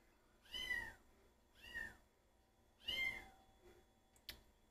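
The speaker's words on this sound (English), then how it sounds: "You can hear the new kitten in the back." A new kitten meowing at home, three distinct drawn-out meows spaced a second or two apart, fairly faint in a quiet room, followed by a small click.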